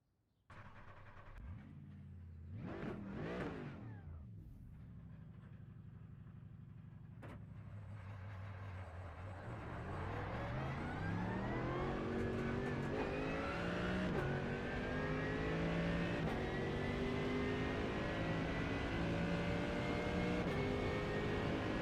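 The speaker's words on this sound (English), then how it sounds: "let's see how the almighty Mercedes AMG feels around Mexico" Mercedes AMG GT3 race car in a racing video game on the Mexico circuit. The engine revs up sharply, drops, then climbs through repeated rising gear pulls at a steady, moderate level with no talk.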